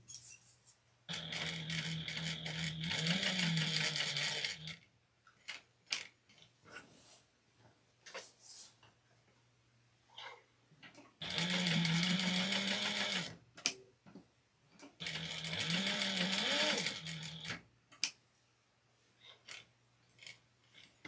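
Domestic sewing machine back stitching and running along an apron seam, in three loud motor bursts of a few seconds each separated by quiet pauses with small clicks and handling noises.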